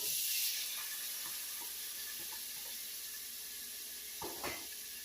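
Hamburger meat sizzles in a pan with seasoning while Texas hash is cooked, a steady bright hiss that swells briefly at the start. A couple of soft scrapes or clinks come near the end.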